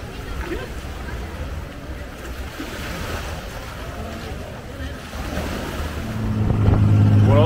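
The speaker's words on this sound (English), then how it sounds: "We're on the boat." A boat ride on the sea off Phi Phi Island, with steady broadband engine and water rush throughout, growing louder near the end as a low motor hum rises; no clear talk over it.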